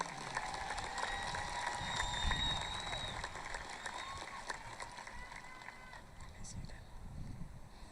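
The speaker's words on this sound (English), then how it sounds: "Give him another round of applause." Crowd applause at a high school commencement ceremony, steady clapping and cheering from a large audience, moderately distant and continuous, with a few whistles and shouts mixed in.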